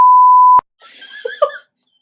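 A steady censor beep tone runs for about half a second, cutting off sharply, followed by a faint, brief stretch of muffled, garbled sound.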